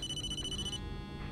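A 1990s-style mobile phone rings in the Blair Witch video game, a steady electronic ringtone tone that cuts off partway, sitting over a low, constant background drone.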